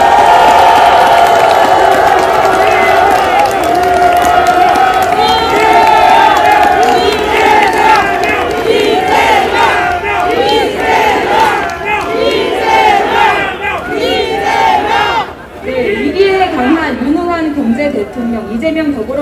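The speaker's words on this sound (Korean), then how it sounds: "여러분 큰 박수 부탁드립니다" Large crowd cheering, shouting and applauding outdoors at a Myeongdong press conference held by a Democratic Party presidential candidate, a loud sustained roar of mixed voices with clapping, dipping briefly before swelling again.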